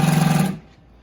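A Consew P1206RB-1 walking foot sewing machine stitches at slow speed with a rapid, even mechanical hum that cuts off abruptly midway, leaving near silence.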